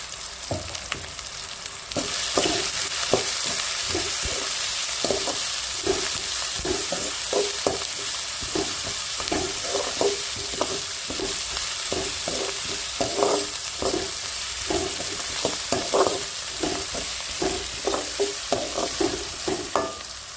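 Onions fry with ragi finger millet vermicelli upma in a pan: a steady close sizzle runs throughout while a spoon stirs with frequent rhythmic scraping strokes, with no talking.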